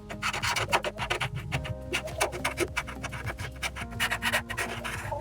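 Dry chalk pastel rubbed and scratched across paper while filling in a green shirt on a drawing, a steady close, dense rasping scrape with quick repeated strokes and no talking.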